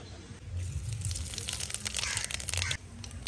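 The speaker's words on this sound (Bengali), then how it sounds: "ফোড়নে দিচ্ছি গোটা জিরে" Whole cumin seeds dropped into hot oil crackle and sizzle in a quick, close spitting burst, fairly quiet overall, with a low hum underneath.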